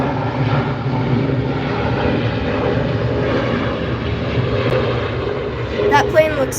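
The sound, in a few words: airplane at an airport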